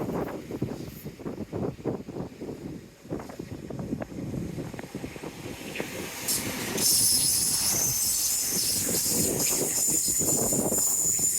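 A small train rumbles past with rhythmic wheel clatter on the rails, then a steady high metallic squeal joins in as it rolls on, fairly close and loud with wind buffeting the microphone.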